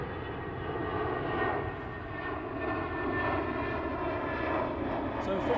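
A departing airliner on Heathrow's runway 27 produces a steady, loud engine roar with a sweeping tonal whine, sustained throughout, heard from nearby at an outdoor spotting location.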